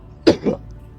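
A person coughs twice in quick succession, a sharp burst followed by a slightly softer second cough, close and clear against a quiet room with no talking.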